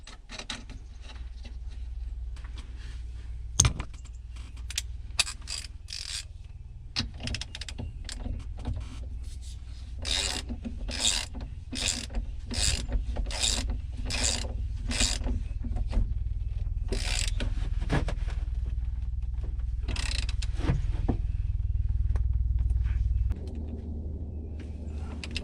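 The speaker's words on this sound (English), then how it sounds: "Put this nut back on." Ratchet tightening a nut inside a 1997 Jeep Wrangler steering column, a series of quick clicking strokes in bursts over a low hum, close and clear.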